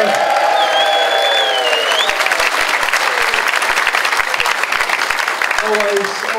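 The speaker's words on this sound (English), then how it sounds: "Give another round of applause," A comedy club crowd gives a full round of applause, loud dense clapping with some cheering, while the emcee's voice carries over the start.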